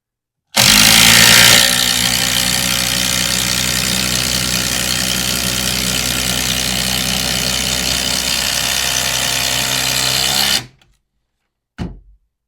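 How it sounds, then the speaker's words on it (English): A cordless drill on a replacement battery drives an 8-inch TimberLok screw into pressure-treated lumber, a loud sustained motor whine with strain for about ten seconds, then stopping abruptly, followed by a brief second burst. "Same 8-inch timber lock going into this pressure treat."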